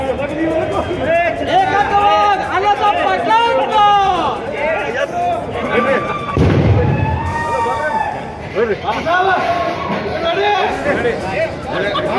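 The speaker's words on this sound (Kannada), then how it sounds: "ಬೆಂಬಲಿಗರು ಪಟಾಕಿ ಸಿಡಿಸಿ ಗುಲಾಲು ಏರಿಸಿ ಸಂಭ್ರಮಿಸಿದರು" Firecrackers burst at a cooperative society election victory celebration in a village, with supporters cheering: steady loud crowd chatter and shouting throughout, and a heavy low blast standing out about halfway through.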